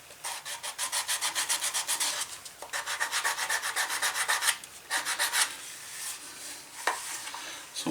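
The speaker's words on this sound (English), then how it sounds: "So getting a final sand done here" A leather pancake holster gets its final hand sanding, with quick rhythmic back-and-forth scratchy strokes in close, even bursts, pausing briefly between passes and thinning out toward the end.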